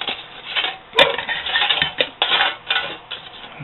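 Thin metal windscreen panels of a backpacking cook kit being unfolded and set in place, giving a run of close, bright clinks and rattles with a few sharper metallic taps, and no talking.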